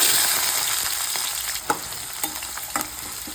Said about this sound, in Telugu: ఆయిల్ హీట్ అయ్యాకైతే ఇందులోకి తాలింపు గింజలు అయితే వేసుకుందాం